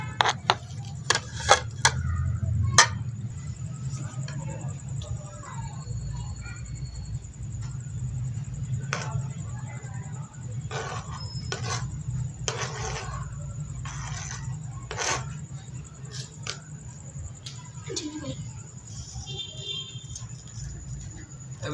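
A knife chops onions into small pieces on a board with irregular taps and light knocks, some quick clusters and some spaced apart, over a steady low hum.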